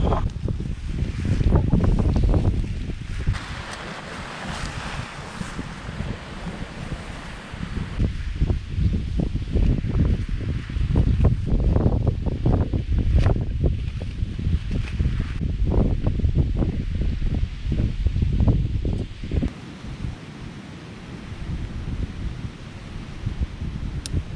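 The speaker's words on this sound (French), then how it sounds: "il y a quand même un peu de vent en fait, qui descend ici" Gusty wind in the mountains of Rondane National Park, Norway, buffets the microphone with low rumbling blasts and rustling, rising and falling throughout.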